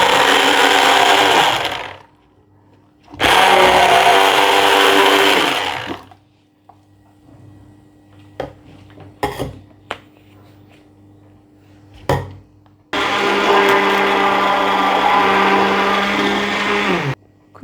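Ash gourd juice with turmeric whirls in an electric blender, three loud close bursts of motor roar separated by quiet gaps with light clinks and knocks between them.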